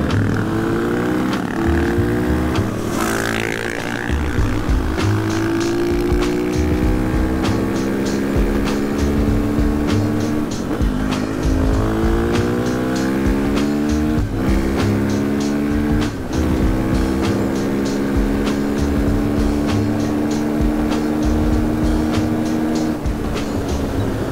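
A KTM 500 EXC-F dirt bike engine runs steadily up close, revving and dropping in pitch with gear changes and engine braking, loud and continuous throughout.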